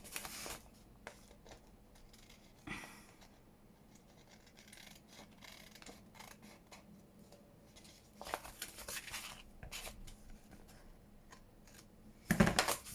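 Paper for an envelope journal folio being trimmed with scissors: a few faint snips and rustles spread across a quiet stretch, ending in a sharper crinkle, with no talk.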